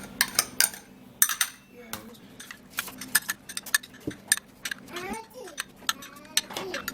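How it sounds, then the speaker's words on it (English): A spoon mashes moringa seeds with juice in a small bowl, making repeated light clinks and scrapes in an irregular rhythm, close by. "try to mash it together so that it could actually mix"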